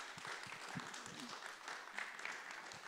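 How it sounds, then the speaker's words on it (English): An audience at a church gathering gives a round of applause after a presentation on aging well, a soft, fairly distant patter of clapping hands that continues steadily for a few seconds, with faint voices underneath. "Let's give her another round of applause."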